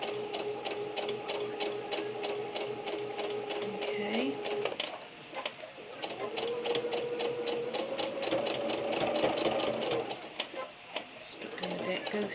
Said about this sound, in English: the idea is just to sew next to the Bosal